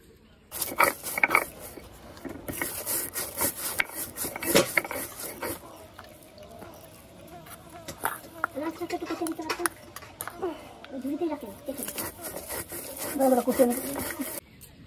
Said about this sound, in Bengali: আমি এটা শিলে বেটে নেব।